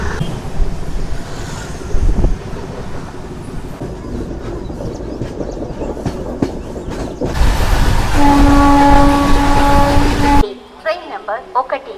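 A Tirupati to Puducherry MEMU passenger train rumbles past nearby, then sounds a loud, sustained horn for a couple of seconds before the noise drops away.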